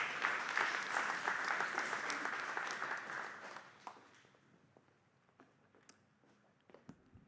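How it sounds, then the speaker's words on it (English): An audience at a council committee community meeting applauds a speaker. The clapping is dense and moderate for about three and a half seconds, then fades to a few scattered claps and small room noises. "Give John a round of applause, please."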